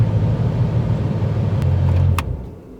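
2020 Ford Shelby GT500 idling nearby with a deep, steady burbling rumble, then a couple of sharp clicks before the engine cuts off and the sound fades.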